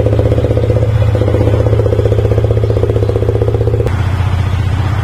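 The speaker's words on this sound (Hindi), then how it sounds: "ये है केन एंड ये है इसका एग्जॉस्ट। तो आवाज सुन रहे हो आप लोग" A 2024 Yamaha R15M motorcycle idles loudly up close after a cold start through a homemade exhaust. Its steady, throbbing drone shifts slightly in tone near the end.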